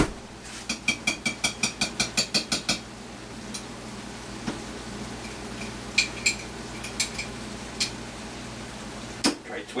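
A stuck metal jar lid being worked at in a home kitchen: a fast run of about a dozen sharp metallic clicks, then scattered clinks and taps, with people talking throughout.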